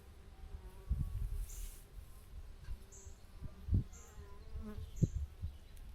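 Soft buzzing of honeybees at a hive during an inspection, with faint thumps and rustles close by, and occasional high tones in the background; no one speaks.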